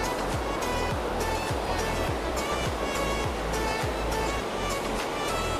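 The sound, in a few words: Panchghagh waterfall roaring with rushing water during rain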